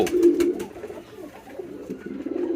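A male native pigeon coos repeatedly up close, low rolling calls in a steady rhythm with little background noise.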